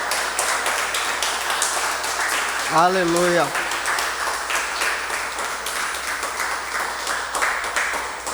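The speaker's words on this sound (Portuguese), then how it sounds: "Dá uma salva de palmas ao Senhor" Church congregation applauding, a dense, sustained wash of clapping that fills the whole stretch, with a voice briefly calling out over it in the middle.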